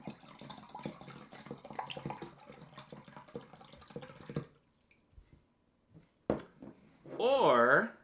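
Water poured out of a bottle in a science demonstration, a burst of splashing and gurgling after a stretch of busy sound and a short pause, with a voice-like sweep at the end.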